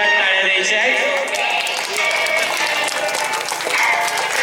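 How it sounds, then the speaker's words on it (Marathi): Loud, dense applause from a school audience at a celebration, a continuous wash of many hands clapping at full strength for the whole stretch, with a murmur of voices blended in. "पुन्हा एकदा जोरात टाळ्या द्यायच्या आहेत."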